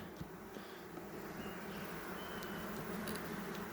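A steady low hum of honey bees buzzing at an open hive fills the clip, continuous and fairly quiet, with no voices.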